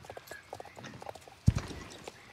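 Horse hooves clip-clop in a horse riding video game, a light, steady run of soft hoof taps with one heavier thump midway, no voices.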